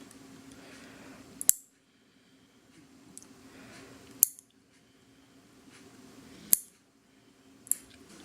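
Scissors trim press-on nails shorter, four sharp single snips spaced a couple of seconds apart, close and crisp over a faint quiet background.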